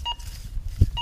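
A Minelab Go Find 20 metal detector sounds its target tone: two short electronic beeps about a second apart, clear and close, with faint outdoor noise between them.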